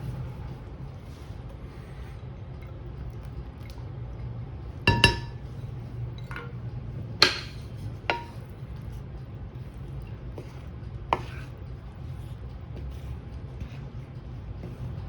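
A few glassy clinks and taps ring out from a mixing bowl as melted vegan butter, cashew milk and bubbly sourdough starter are stirred together, scattered irregular hits over a steady low background hum.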